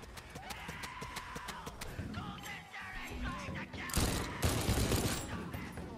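Rapid gunfire and a shotgun in the shooter game Deathloop: dense bursts of sharp repeated shots, with heavier blasts in the second half, all fairly close and loud.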